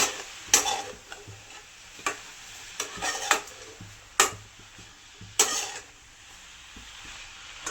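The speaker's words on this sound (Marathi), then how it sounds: "आता आपण ती पूर्ण हलवून घेऊया" A spatula stirs karadi greens with onion, chili and garlic in a pan, giving intermittent scraping strokes over a soft sizzle, close and clear with no talking.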